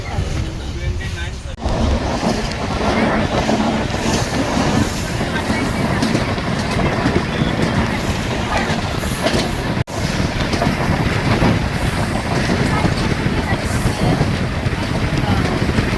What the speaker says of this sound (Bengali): ট্রেন আমাদের ছেড়ে দিল কামাখ্যা রেলওয়ে স্টেশন।